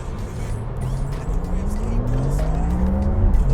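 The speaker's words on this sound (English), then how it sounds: "Despite the tires squealing at their depth, this one still feels nice to drive." Porsche GT3 RS tires squeal on a race track, rising tonal screeches over a loud, climbing engine roar, close, with talking over the sound.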